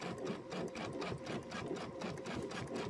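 A sewing machine stitches a quilt top with a close, continuous, rhythmic needle clatter that holds steady throughout.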